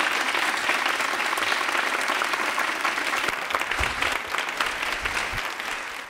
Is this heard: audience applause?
yes